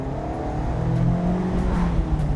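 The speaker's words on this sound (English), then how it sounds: "so I can pretty easily heel toe downshift." Mazda MX-5 Miata engine blips and revs during a heel-toe downshift, a short close burst of rising and falling engine tone heard from inside the car.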